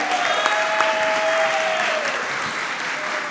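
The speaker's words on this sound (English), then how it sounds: "Please clap your hands for the jury one more time." Clapping for the jury at a hackathon final, a steady, dense round of hands from the audience with a few whistles or cheers riding over it, gradually tapering.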